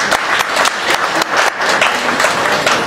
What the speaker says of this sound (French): Je vais vous demander d'applaudir très fort